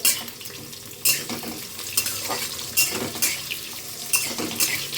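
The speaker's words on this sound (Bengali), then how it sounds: "তো দেখো, আমি আলুগুলো ভেজে নিচ্ছি।" Potatoes fry one batch at a time in oil in a pan, giving a continuous close sizzle. Sharp clinks and scrapes of a utensil against the pan recur about once a second as they are stirred, with no talking.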